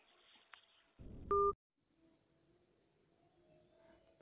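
Telephone keypad tones during an automated IVRS Aadhaar mobile-linking call: a short, loud two-tone DTMF beep from one key press, sitting amid faint line hiss and quiet background noise.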